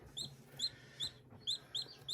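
Baby chicks, including Rhode Island Reds, give short, high peeping chirps in small bursts, soft and fairly close over quiet background noise.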